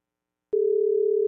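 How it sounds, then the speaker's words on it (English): Steady, pure telephone tone begins abruptly after a moment of silence and holds evenly for nearly a second while an outgoing call connects, loud and clean with no talk. "we know it's ringing"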